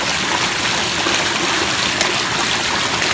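Water pours steadily over the rocks of a backyard pondless waterfall, a close, loud and continuous splashing rush that holds an even level from start to finish.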